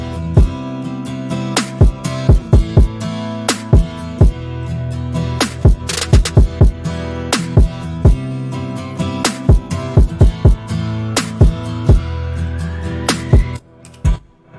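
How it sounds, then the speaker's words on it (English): Kick and snare drums with sidechain compression in FL Studio: punchy, sharp drum hits land in a steady beat over a sustained pumping musical bed, loud and up close, with no talking. "So let's hear it with the kick and snare."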